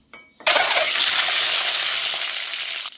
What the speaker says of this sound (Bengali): এবার এই গরম তেলের মধ্যে সেদ্ধ করা ডিম 4টে দিয়ে দিচ্ছি।